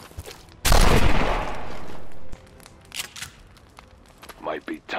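Gunfire from soldiers in the video game XCOM 2: a loud burst of shots starts near the one-second mark and sustains for about two seconds, followed by quieter scattered impacts and effects.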